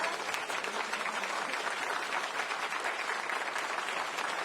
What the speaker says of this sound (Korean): 모두 큰 박수로 맞이하여 주시기 바랍니다